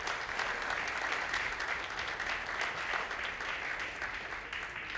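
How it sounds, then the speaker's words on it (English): A student awards night audience gives a sustained round of applause, a continuous even wash of many hands clapping in a hall, with no break. "Let's give all our students another round of applause."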